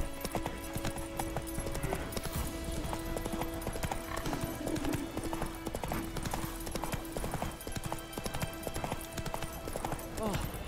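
Roach, a horse in The Witcher 3, gallops with fast, steady hoof clip-clops beneath continuous game music and ambience, and a few snorts come through as well.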